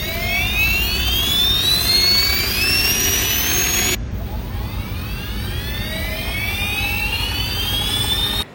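Small RC 3D helicopter rotor spinning up, a loud close whine climbing steadily in pitch, cutting briefly then spooling up again before stopping abruptly.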